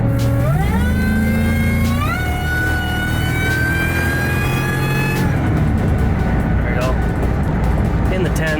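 A Ford SVT Lightning pickup truck running again after a low fuel pressure fix, its engine revving up steadily through rising pitches, then shifting and pulling on under a loud, continuous drone.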